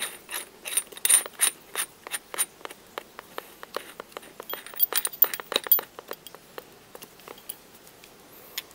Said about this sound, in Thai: ขันจำปาให้แน่นนะครับ